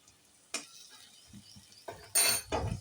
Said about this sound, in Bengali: মশলাটা আমি নেড়ে চেড়ে নিলাম